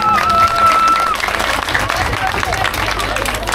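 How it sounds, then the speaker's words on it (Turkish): Crowd applause at a village highland festival in Trabzon, many hands clapping steadily for a few seconds alongside a brief whistle-like tone and background crowd noise. "Kendi köyümü temsilen çok değerli Murat Başkanım'a bir alkış alabilir miyim?"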